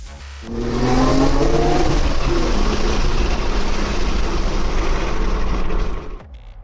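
A Nissan RB26 engine revs hard at full throttle, a loud sustained roar with rising harmonics that swells, holds, then drops off near the end, with no talk over it.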